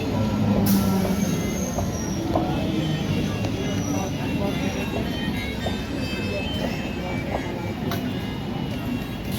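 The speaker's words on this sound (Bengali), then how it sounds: "ট্রেন যাচ্ছে" A train passes by with a continuous heavy rumble and rattling wheels, loud and steady throughout, with occasional sharper clanks on top.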